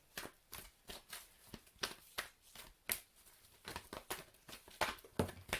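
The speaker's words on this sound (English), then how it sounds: "I'm going to just hand shuffle Archangel Oracle and just see what falls out" Archangel Oracle cards are hand shuffled, giving a steady run of soft riffling slaps and papery flutters at an irregular rhythm, close but quiet, with no talking.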